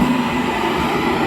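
A passenger train bound for Kacheguda rolls past a station, a short burst of close, steady rail rumble and wheel noise with no talking.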